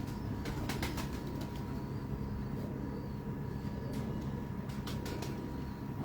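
Pigeons kept in a loft: soft cooing and bird calls under a dense, steady background rumble, fairly faint and distant.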